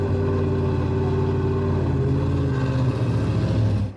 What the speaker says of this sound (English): one of the cars in the pit lane, and that was likely the LMP3 prototype of Ligier and ARC Bratislava roaring back towards the fast lane